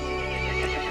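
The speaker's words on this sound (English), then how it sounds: "The horse grew angry and summoned the other monsters." A horse in the video game Resident Evil Village lets out a brief, loud, close whinny, a single sustained tonal cry lasting under a second.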